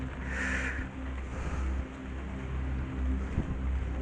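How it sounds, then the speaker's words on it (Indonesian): Gusting wind roars steadily outdoors during rain at an abandoned tourist site, a broad, close rush with microphone buffeting that swells and eases over several seconds. "ini ada terpaan angin"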